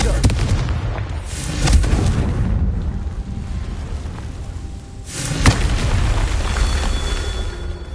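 A Confringo blast spell in the video game Hogwarts Legacy lands as a string of heavy booming explosions with rumbling, crackling tails, loud and close over continuous game noise.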